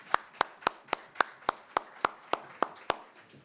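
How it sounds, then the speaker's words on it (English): A single person claps at a mining investment panel session, about a dozen crisp, evenly spaced claps close by, with no crowd joining in. "Can I have a round of applause for our panelists?"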